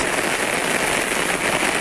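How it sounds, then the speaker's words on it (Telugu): A brief, unbroken wash of heavy rain falling in Hyderabad, loud and close, the dense patter filling the whole moment without any talk. "భారీ వర్షం పడుతుంది."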